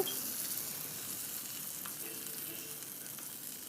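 Tempering crackles and sizzles steadily in hot oil for curd chutney, a faint, continuous frying hiss with no voices.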